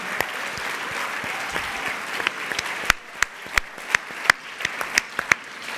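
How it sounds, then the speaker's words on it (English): An audience applauds at an arts convention awards presentation, a dense wash of clapping that thins midway into scattered individual claps, moderately loud in a large hall. "stand and be applauded for all their dedication in advancing the arts in America"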